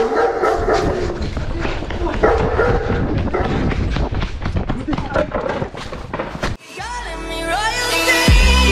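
A dog that attacked someone barks and yips in short bursts amid loud, excited talking, with the commotion close and busy throughout.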